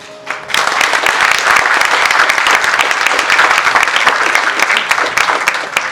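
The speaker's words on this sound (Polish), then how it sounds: "wielkie brawa dla naszych e, partnerów, sponsorów i patronów medialnych" Applause from a gala audience breaks out after a brief quiet start and carries on as dense, steady clapping right to the end, loud and close, with no voices over it.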